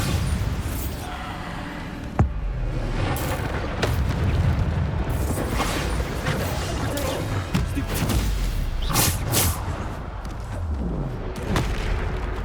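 Bombarda explosion spells go off in Hogwarts Legacy combat, a dense run of booming blasts and gunfire-like bursts over a constant loud battle din, with a sharp hit near two seconds and several more later.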